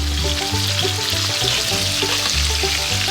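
Venison chops frying in oil in a pan, a loud steady sizzle up close, with a low hum beneath and no talking.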